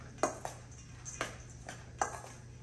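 A utensil clinks and scrapes against a bowl while salt and pepper are mixed into a burrito bowl. Three or four light, close metallic taps are spaced about a second apart over quiet room tone.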